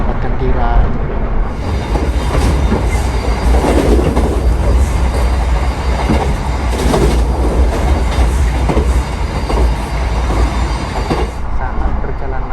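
The Gajayana train runs fast on its rails with a loud, continuous rattling roar and rhythmic clatter, heard close from inside a carriage, with a voice talking over the noise.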